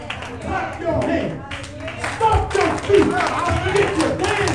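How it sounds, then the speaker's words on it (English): Congregation clapping hands during a church service, scattered rhythmic claps and taps mixed with voices and music over several seconds. "clap your hands"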